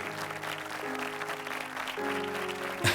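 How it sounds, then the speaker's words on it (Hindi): Audience applause during a televised church sermon, a steady wash of clapping with organ-like sustained tones underneath, moderately loud and continuous. "ये तालियां गोल्फ जैसी हैं"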